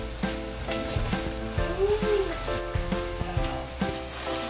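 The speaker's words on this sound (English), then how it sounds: "So here I just mix it up on high flame and it's done." Masala fries with ketchup sizzle in a hot pan over high flame while being stirred and tossed, a steady close crackle broken by repeated scraping strokes.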